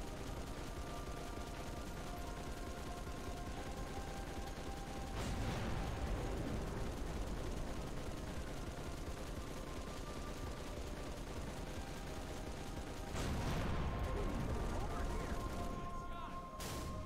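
Gunfire in Halo 3 from a video game battle against Brutes, sustained rattling shots and mechanical clatter at moderate level, with two louder bursts of blasts partway through.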